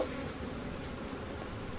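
Honey bees hum around an open hive while a beekeeper prepares to test for varroa mites, a faint, steady buzzing drone with no voices.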